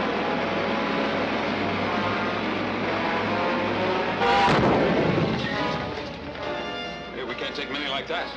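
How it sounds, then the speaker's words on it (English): A vintage sci-fi film's ray gun lets out a sudden loud blast over a constant droning rumble, followed by a rough, decaying roar. "Stand by for ray gun fire."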